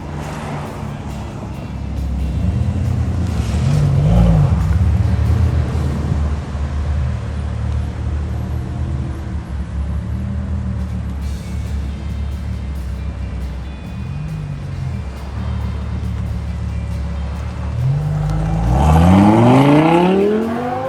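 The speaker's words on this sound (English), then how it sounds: "The Audi R8 pulled in and kind of slowed us down for just a moment" An Audi R8 sports car pulls in and drives past, its engine rumbling and revving loudly with a rising sweep near the end, accompanied by other road noise.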